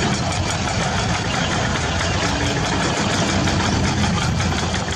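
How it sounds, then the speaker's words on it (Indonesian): Loud heavy-equipment engine roaring at a construction project site, a dense continuous mechanical rumble with a rough, knocking texture that stays constant and close throughout. "Deru suara mesin alat berat yang sumbang menjadi makanannya sehari-hari."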